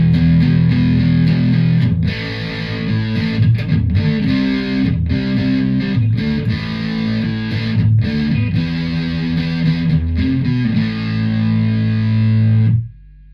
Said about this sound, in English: With the Overdrive 2 channel, with the same layered effects, with the reverb and the chorus,